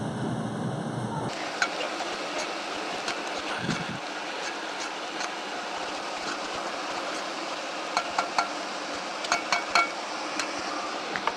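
Chopped onion being stirred with flour in a hot pan for a roux, a soft, steady sizzle running throughout with occasional light scrapes and clicks of the utensil against the pan.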